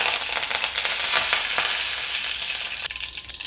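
Curry leaves dropped into hot oil already holding mustard seeds and cumin give a loud, dense, continuous sizzle and crackle, close up with a few stirring scrapes and no voices.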